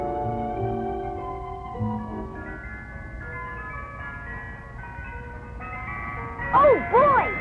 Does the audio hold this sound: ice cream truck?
yes